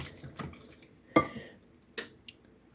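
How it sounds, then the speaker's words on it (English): Egg mixture for a French toast casserole stirred in a bowl in a kitchen: a few scattered clinks and light scrapes, with two sharper taps standing out, fairly close and quiet with no voice. "we want to take our egg mixture. Let's give it one last little stir"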